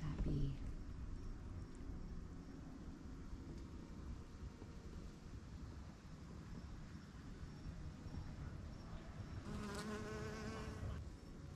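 Bees buzzing among fall-blooming plants in a Florida permaculture garden, a faint steady hum with a brief closer whine near the end.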